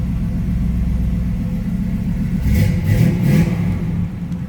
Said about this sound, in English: Flowmasters sound very good. Slip around to the back so you can hear them. Nice little rumble coming out of that 350.